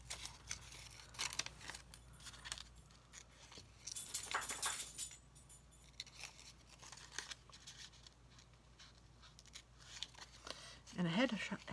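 Scissors snip through a Post-it note just inside a drawn hedgehog outline, with repeated soft cuts and crinkles of the paper, close and fairly quiet, under a voice talking.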